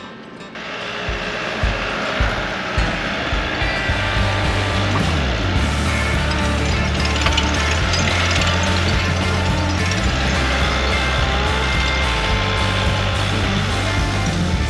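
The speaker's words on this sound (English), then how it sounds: "So Seth is just coming around, he's getting a load, dumping, oscillating a little bit, and then Heading back to that pile" A heavy machine hauls and dumps loads of gravel at an off-grid ocean property, its loud engine droning and shifting pitch under clanking, ratcheting mechanical noise throughout.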